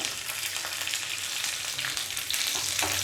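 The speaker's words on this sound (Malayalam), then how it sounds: "എണ്ണ ചൂടായി കഴിയുമ്പോൾ ഇതിലോട്ട് 1/2 ടീസ്പൂൺ കടുക് ഇട്ട് കൊടുക്കുക" Mustard seeds and two dried red chillies frying in hot oil in a pan, giving a steady, close, crackling sizzle with scattered popping throughout and no voices.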